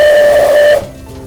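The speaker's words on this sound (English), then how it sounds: "steam is going up to the whistle and making the sound" Steam locomotive whistle blown by pulling its handle, a loud sustained shrill tone with strong harmonics lasting under a second, then cutting off abruptly into a low hissy tail.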